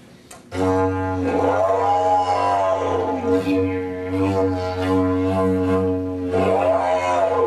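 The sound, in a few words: didgeridoo imitating an elephant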